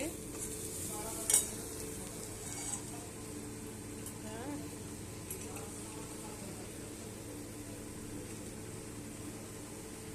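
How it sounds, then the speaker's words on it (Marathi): Egg bhurji fries in a pan, a soft continuous sizzle with occasional scraping stirs and a light clink, fairly quiet and close. "आता मी अंड्याची बुर्शी बनवते."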